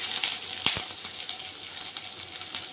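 Mustard seeds and cumin tempering in a little oil for sambar, a steady bright sizzle with a few sharp crackles and pops near the start, no voices.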